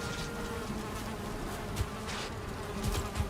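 Bees buzzing in the survival game Valheim, a continuous dense drone of insect wings with a few soft thumps underneath, steady and fairly close.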